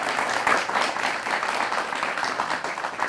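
A studio audience applauds a top-scoring student, a short burst of dense clapping, fairly close and continuous for about three seconds.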